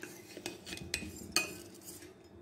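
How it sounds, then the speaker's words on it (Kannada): A spoon clinks and scrapes against a pot as mango pickle is stirred together with fenugreek, with several sharp metallic taps at an uneven rhythm and no voices. "ಇದನ್ನು ಚೆನ್ನಾಗಿ ಮಿಕ್ಸ್ ಮಾಡ್ತೀನಿ"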